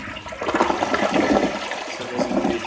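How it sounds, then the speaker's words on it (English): A toilet flushing while a Toto Washlet bidet seat is being installed, a loud close rush of draining water that gurgles steadily for the whole stretch with no talk over it. "Flush the toilet."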